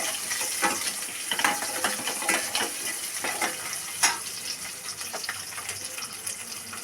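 Vegetables sautéing in sesame oil for a tamarind vatha kuzhambu, a moderate sizzle with intermittent stirring scrapes and utensil clinks, fairly close and without talk.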